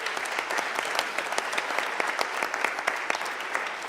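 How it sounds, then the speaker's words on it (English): An audience at a startup pitch competition final applauds, a dense, steady crowd clapping heard up close for several seconds with no talking. "Big round of applause for InSkilled."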